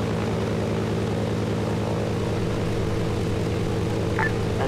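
Biplane propeller engine droning steadily in a video game, a constant buzzing hum with a pulsing rhythm, moderately loud and continuous without speech.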